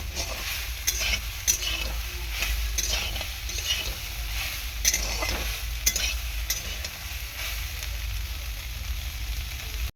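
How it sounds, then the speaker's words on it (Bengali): Steady crackling sizzle of soybean chunks frying in hot oil, with occasional stirring scrapes and clinks, continuous and close throughout. "শুধু তেল দিয়ে সয়াবিনটাকে এরকমভাবে ভেজে নেবো"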